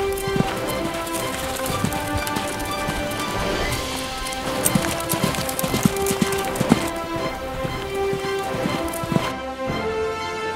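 Hooves clip-clop in a steady rhythm as a horse is taken out for a short ride, loud and close, with a busy ringing musical bed underneath for the whole stretch.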